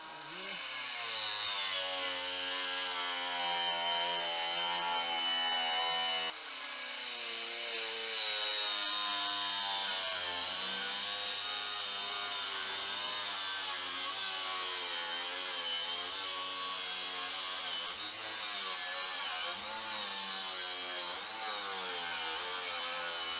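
A power tool cuts metal clamped under a guide for a sliding shelf in a toolbox drawer, a loud, sustained whining grind with a steady pitch that briefly dips before running on evenly.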